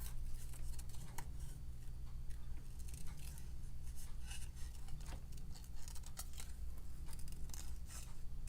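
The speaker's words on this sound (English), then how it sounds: "I'm going to kind of do a little jig-jag and cut all around that pretty font" Scissors cutting paper in a wavy zig-zag line around a printed sentiment for a shaker card, steady rapid snipping and rustling throughout, close and clear with no talk.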